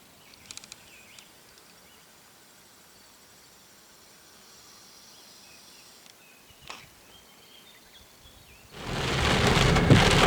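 Quiet summer air over an apiary with faint crickets and a single distant thunder rumble, then a heavy downpour suddenly breaks out and roars loudly on the surface near the end.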